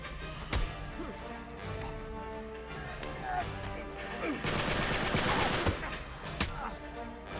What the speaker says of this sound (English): Dude, I shot that guy 2 or 3 times.